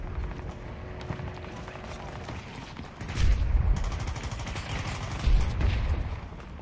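Bursts of automatic gunfire in a shooter video game, sustained rattling volleys that swell louder midway with heavier near shots, including a possible grenade blast.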